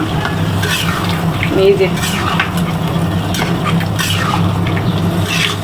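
Beef for a coconut beef curry tipped into a hot cooking pot, giving a steady sizzle and frying hiss with stirring scrapes throughout, while a voice speaks briefly over it.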